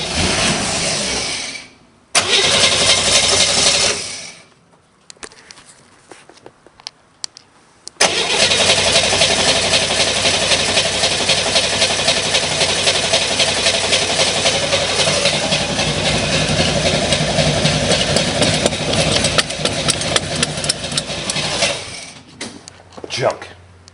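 A cold Chevrolet Monza running low on gas cranks in a short burst, falls quiet, then fires and settles into a loud, steady idle that runs on for many seconds, with people talking nearby.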